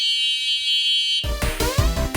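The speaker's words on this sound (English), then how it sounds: "The horn sounds like this." Electric horn on an ADO A20 folding e-bike, a 350W budget model, gives a loud sustained tonal honk at close range, followed by a burst of brighter clattering, rattling noise, with no one talking over it.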